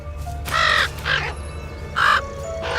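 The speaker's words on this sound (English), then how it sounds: "Or the crow." A crow caws in a spooky video game set in a pumpkin patch: three harsh, loud caws spaced across a couple of seconds over a quiet background.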